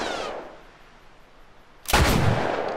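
Gunfire in The Last of Us during a horseback section: a sharp shot rings out, decays into a quiet stretch, then a second loud, close blast bursts in near the end.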